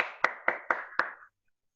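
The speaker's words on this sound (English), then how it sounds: "Everyone can clap?" Four sharp hand claps in steady rhythm from a group of children at a Friday school session, close and moderately loud over a faint sustained tone, then silence.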